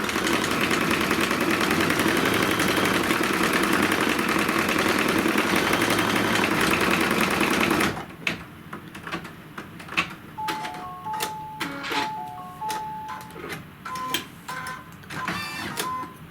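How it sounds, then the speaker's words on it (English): Embroidery machine sewing a little straight tack-down stitch around a stem, a loud continuous mechanical whir for about eight seconds, then stopping and leaving softer clicks and brief tones. "the third stitch out, is just going to be the little straight stitch around that stem"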